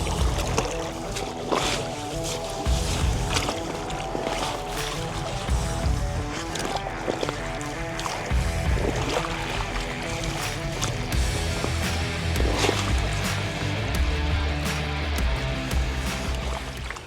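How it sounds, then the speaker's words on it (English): Water rushing rapidly past a blockage in a ditch along a small berm, a steady broadband churning and splashing that fills the whole stretch without a break, close and fairly loud, with no talking over it. "As you can hear, the water is getting to be a little bit more rapid because we're blocked up right here."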